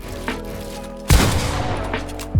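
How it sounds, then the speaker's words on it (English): Gunfire in a Fortnite box fight: a sudden loud shot bursts in partway through, trailing into a ringing decay over steady game background sound, with fainter distant pops earlier and no talk. "that guy shoots his gun"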